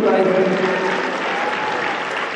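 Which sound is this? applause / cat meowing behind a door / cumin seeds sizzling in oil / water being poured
applause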